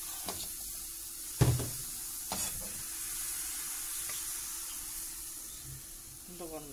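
Crêpe batter is stirred in a bowl, soft scraping with a few sharp knocks of the utensil against the side and a quiet hiss in the background.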